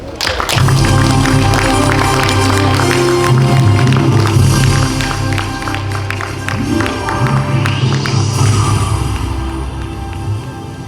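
An audience claps and cheers at the opening of the 34th Jeong Ji-yong Literary Award ceremony, a festival event. Loud sustained clapping blends with booming music that fills the hall for about ten seconds before easing off.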